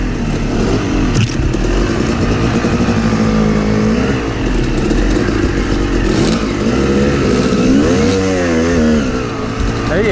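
A dirt bike engine revs up and down as the rider makes a pass, a loud, raspy buzzing drone close to the microphone with rising and falling pitch sweeps and wind rush throughout.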